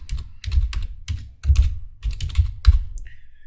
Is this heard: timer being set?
no